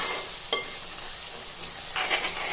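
Fried masala for a Kerala chicken curry sizzles steadily in the pan, with a few sharper scrapes as it is stirred. The sound is close and continuous, and no one speaks.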